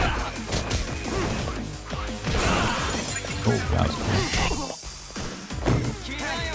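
Glass shattering and smashing hits in Lost Judgment combat, a dense run of loud crashes and whacks laid over game music and effects, with a voice reacting partway through.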